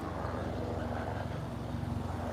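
Police helicopter passing overhead in a park, a steady low rotor thrum at moderate distance, faint and continuous without a clear approach or fade.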